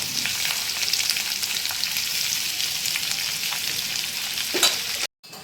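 Potatoes frying in hot oil with a ground chili and coriander masala, a steady broad sizzle at close range for about five seconds before stopping abruptly near the end.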